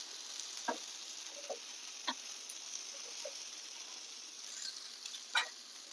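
A sorghum flour snack roasts in oil in a pan, giving a steady soft sizzle with a few faint clicks and scrapes from turning it.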